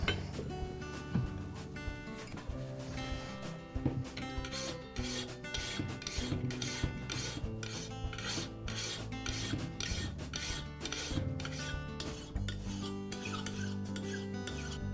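A hand file works a lawn mower blade in repeated rhythmic rasping strokes, close up and metallic, the strokes growing steadier and more evenly spaced partway through.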